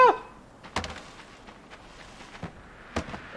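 Heavy stomps bringing a pile down in the dark platform game LIMBO: a few separate dull thuds spaced apart over a quiet, hushed background.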